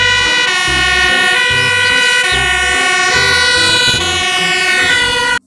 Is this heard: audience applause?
no